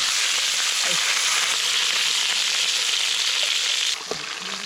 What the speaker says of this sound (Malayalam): ചട്ടിയിലേക്ക് പൊരിക്കണം.